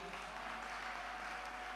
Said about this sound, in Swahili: Mtu mwashangiri kwa makofi.